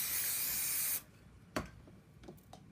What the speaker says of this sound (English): temporary spray.